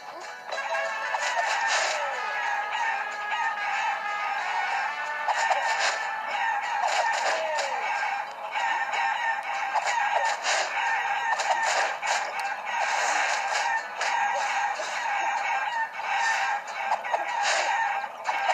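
Chickens in the Guacamelee video game cluck and crow continuously, with a rooster's cock-a-doodle-doo rising over a dense, steady chorus of clucking fowl.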